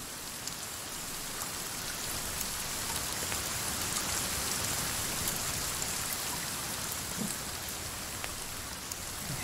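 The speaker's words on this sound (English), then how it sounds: "Okay, this rain's pretty wicked." Rain falls in the survival video game The Forest at night, a dense, steady hiss of drops on surfaces lasting the whole stretch with no voices.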